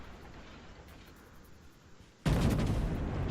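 A naval gun salvo from a warship in World of Warships: a sudden loud blast breaks out of a quiet background hum and rumbles on without a break.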